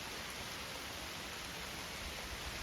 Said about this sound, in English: it's proper rain